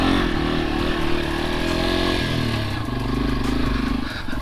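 A Yamaha TW200 motorcycle rides along a rutted dirt trail, its engine droning loud and close with steady throttle and some rattling clatter from the bike.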